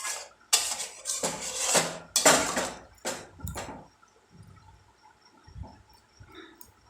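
A spoon stirs and scrapes through a pot of pointed gourd, mixing the spices with added water in a few loud, sloshing bursts that fade to softer, sparse knocks, with no one talking.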